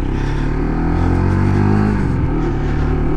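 A Lexmoto RSS Street 125cc motorcycle pulling away, its engine droning steadily with a rising pitch as it accelerates, loud and close with wind noise.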